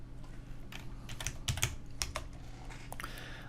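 Keys on a computer keyboard are pressed while entering an alt code, a short run of close, crisp clicks in uneven bursts over a quiet room background, with no talking.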